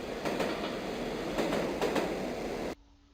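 Train sound effect loaded into a Flash 8 library: steady rolling rumble of railroad cars with faint clickety-clack wheel beats, loud and continuous, then it cuts off abruptly near the end.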